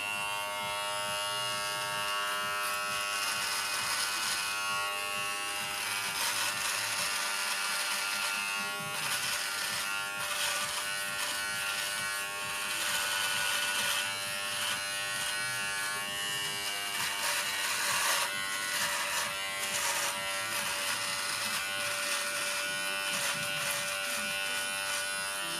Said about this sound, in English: let's just take this little cruZer 6 and trim a little bit here my beard in 4K